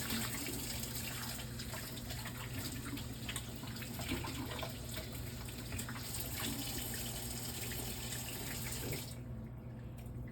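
Hot tap water runs steadily from a faucet to rinse a coconut hide for a crested gecko enclosure, a continuous close splashing hiss that cuts off near the end.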